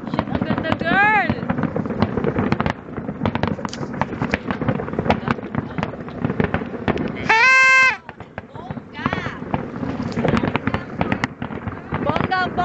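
New Year fireworks over Burj Al Arab crackle and pop in rapid bursts, with a few whistling rockets rising, while excited voices shout and talk close by throughout.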